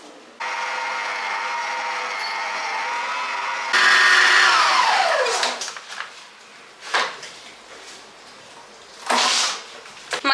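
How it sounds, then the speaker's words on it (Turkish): A dough kneading machine working a batch of dough with an egg added, a steady whirring drone that shifts pitch partway through, then stops, leaving intermittent scraping and clattering bursts. "Makine bayağı yoğurdu ama bir de elle üstünden geçmek gerekiyor."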